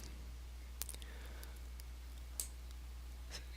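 A computer mouse clicks a few times, soft sharp ticks spaced apart over a steady low hum, close and faint, while finishing a setup step in SAP software.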